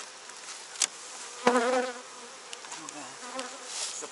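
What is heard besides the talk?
honey bees buzzing at an opened hive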